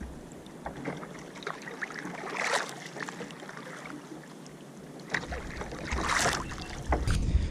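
A fishing kayak is paddled on the ocean at sunrise, the blades dipping and swishing in steady strokes over a constant wash of water and wind noise.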